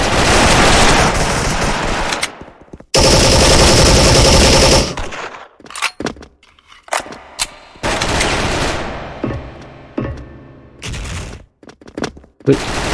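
Rapid automatic P90 submachine-gun fire in the online shooter Special Force rattles in long, loud, close bursts, broken by short pauses, single shots and other game effects.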